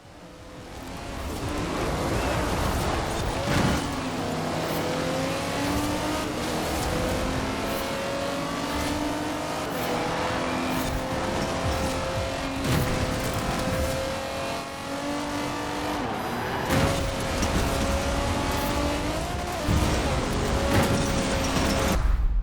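A Jaguar racing car engine in the video game Forza Horizon 4 roars steadily throughout, its pitch rising and falling through gear changes, with no talking.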